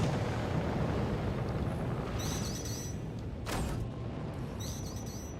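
Missiles launch and strike a target in a space-combat game, flying a Drake Vulture ship: a steady roaring engine rumble with a short sharp burst midway and faint electronic chirps above, no talking.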